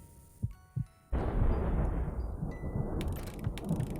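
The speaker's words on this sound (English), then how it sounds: "Especially with that thunder." Thunder in the horror video game The Child's Sight: two soft thumps, then a sudden loud rolling crash that rumbles on and slowly fades, with a few crackles near the end.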